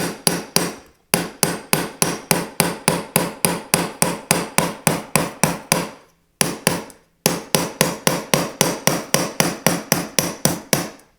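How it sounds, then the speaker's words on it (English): A hammer strikes a thin metal sheet on a block during foldforming, with rapid, even, ringing blows in long runs separated by short pauses, loud and close. "So I'll hammer on one side"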